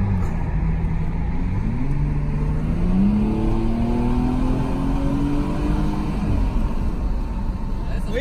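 A car engine revs and climbs in pitch as the driver accelerates to overtake a tandem bicycle on a road, the engine note rising steadily and sitting loud and close under a continuous interior rumble.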